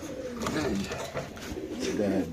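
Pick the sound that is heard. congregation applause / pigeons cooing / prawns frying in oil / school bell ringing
pigeons cooing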